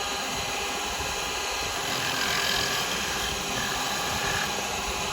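Detail gouge cutting a wooden birdhouse spinning on a lathe, a steady broadband whirring scrape with a constant high whine, loud and continuous throughout.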